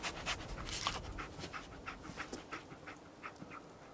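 A dog companion in the video game Fallout 4 pants steadily, a rhythmic run of quick breathy huffs close up and fairly quiet, with no talk.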